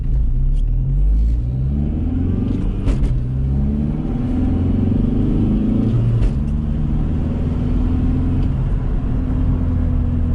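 A 2003 VW Jetta TDI wagon diesel pulls hard in first gear, its loud engine drone rising steadily in pitch under constant road rumble, heard from inside the cabin.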